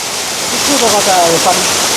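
A waterfall along a little-travelled jungle trail, heard as a steady broadband rush of falling water throughout, with voices talking faintly over it.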